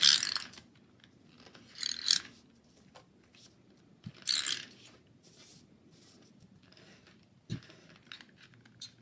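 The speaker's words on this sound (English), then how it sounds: "So I'm just going to put that down with some snail adhesive" A snail adhesive tape runner is pressed along paper for card making, giving several short ratcheting, clicking rasps separated by quiet gaps, close and fairly soft.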